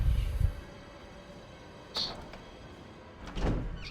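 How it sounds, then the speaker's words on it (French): Door opening in the survival horror game Resident Evil Remake: a short mechanical thunk at the start, a brief metallic click midway and a heavier creaking swing near the end, with a low room drone underneath. "Il y a cette petite cinématique de la porte qui s'ouvre."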